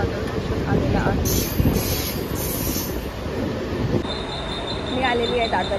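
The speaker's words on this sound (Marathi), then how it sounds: "आता कल्याणची ट्रेन लागली आहे" A local train rolls into Dadar railway station in Mumbai with loud rumbling wheels, clicking rail joints and brief squeals, heard close on the platform amid crowd noise and faint voices.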